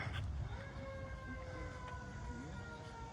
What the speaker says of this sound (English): I hear sirens, so I guess the parade's going on over in town.